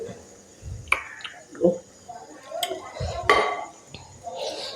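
Fish pieces are added to a curry in a metal pot, giving a few close clanks and scrapes of utensil against pot with soft clinks in between, irregular and fairly loud.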